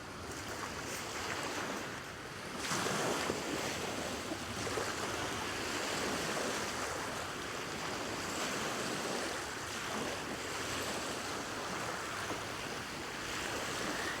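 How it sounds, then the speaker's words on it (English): Ocean waves wash and roll continuously as the opening of a music album, a broad hissing surf with gentle swells and a faint windy texture, steady and unaccompanied by voices. "The waves, always the waves first."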